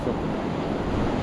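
Ocean surf washes onto a surfing beach at Pipa, Brazil, as a loud, steady roar of breaking waves mixed with gusty wind noise on the microphone, with no voices.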